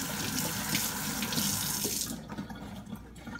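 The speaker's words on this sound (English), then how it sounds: "But first we need to wash our hands." Kitchen tap running while hands are washed, a steady close hiss of flowing water that cuts off about two-thirds through, leaving faint splashes and drips.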